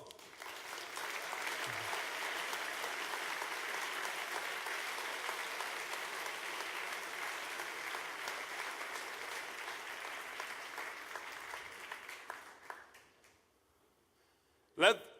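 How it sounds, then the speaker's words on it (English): Sustained applause from a hackathon closing ceremony crowd, steady and fairly loud for about twelve seconds before fading out, followed by a short sharp noise at the end. "Let's give a round of applause."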